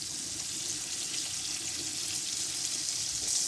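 Butter and vegetable oil sizzling in a cooking pot, a steady, loud hiss that continues without a break and with no talk over it.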